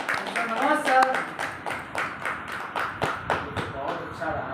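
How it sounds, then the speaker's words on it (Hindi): An audience at a seminar claps to welcome a speaker, with sparse, evenly spaced claps ringing out while a voice talks over the opening moments. "एक बार जोरदार तालियों से स्वागत करें"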